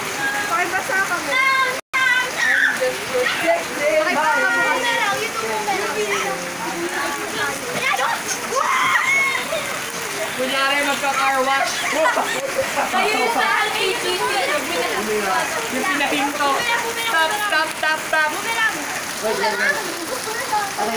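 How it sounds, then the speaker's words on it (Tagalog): Steady rain pours down outdoors while a group of people bathe and play in it after an exam, with loud, continuous hiss throughout and lively voices talking and shouting over the downpour. "Naliligo po sila sa ulan"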